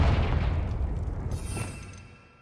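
The Confringo fire spell in a Harry Potter video game detonates with a deep booming blast that rolls and fades over two seconds, with a brighter crackle in the tail.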